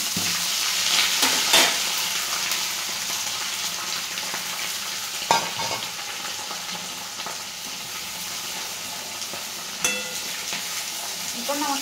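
Finely chopped and thickly cut onions fry in hot oil, a steady close sizzle with occasional stirring clatters and sharp utensil knocks.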